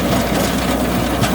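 A Mahindra 555 Arjun tractor pulling a 7-foot rotavator through a field gives a brief, steady, close engine drone with rough mechanical churning.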